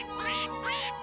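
In a Smurfs cartoon, a duck quacks twice in quick succession, nasal and close, with a faint musical backdrop underneath.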